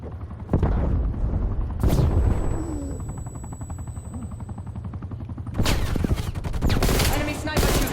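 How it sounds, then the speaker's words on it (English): Gunfire in Call of Duty: Black Ops Cold War, including enemy sniper fire: heavy booming shots and bursts, loud and close, with a sustained rumbling stretch between them and some game voice under it. "Enemy sniper shooting."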